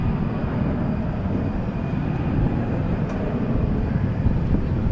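An airliner departing DFW airport gives a continuous low jet rumble with a broadband roar that stays steady throughout, with no talking.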